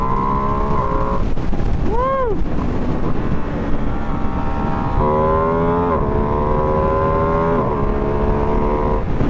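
A 2025 Ducati Streetfighter V2S motorcycle engine revs hard and loud up through several gear shifts on a highway, each pitch climb cut by a quick shift, with wind rushing over the microphone and a brief shout.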